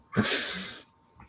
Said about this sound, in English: that was a yawn got out there